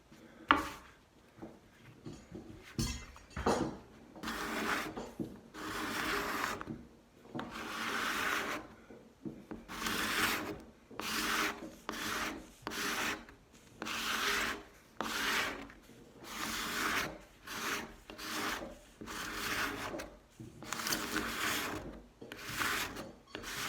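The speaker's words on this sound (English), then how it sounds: "We're going to try this cabinet scraper here." A cabinet scraper works across the wooden top of a mortise-and-tenon workbench in repeated rhythmic strokes, each a close raspy scrape separated by short pauses, with no voices.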